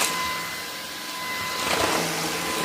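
A Shark vacuum cleaner runs under a sofa with a steady broadband whoosh and a constant motor whine, close and continuous with no talk.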